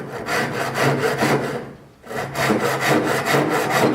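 A hand saw rasps steadily through hard hornbeam wood in quick, regular back-and-forth strokes, loud and close in a workshop, with a brief pause near the middle.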